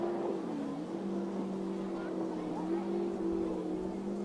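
An offshore superboat racing engine whines steadily at high revs, its pitch wavering slightly as the throttle works through a corner, loud and continuous.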